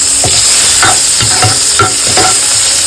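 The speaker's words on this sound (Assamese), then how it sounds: "তাৰপিছত অকণমান পিঁয়াজ দিছোঁ, এইখিনি ভাজি ল'ম।" Onion frying in hot oil in a pan, cooked in the same oil after garlic for an Assamese home-style dish: a steady close sizzle with about six rhythmic stirring scrapes, no talk.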